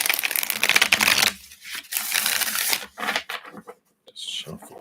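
Tarot cards are shuffled by hand in a series of quick riffling, papery bursts that start and stop, close and fairly loud, with a pause partway through.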